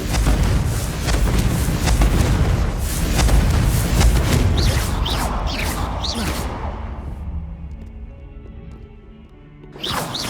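A Confringo fire spell blast from the Hogwarts Legacy video game: a loud, booming explosion with whooshing bursts that rumbles on for several seconds, fades away, then flares briefly again at the end.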